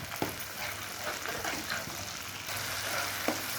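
Chopped tomato frying in oil with already-fried ginger and garlic: a steady, fairly quiet sizzle with a few soft stirring scrapes and clicks throughout.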